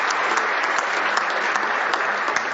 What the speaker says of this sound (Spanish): Un aplauso, por favor, para el ministro y las panelistas.